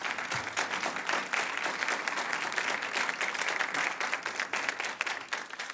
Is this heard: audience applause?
yes